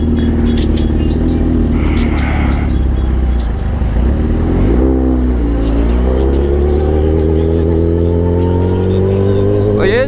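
A motorcycle ridden downtown at night, its engine loud and close with a steady drone that shifts pitch midway as it revs and changes speed.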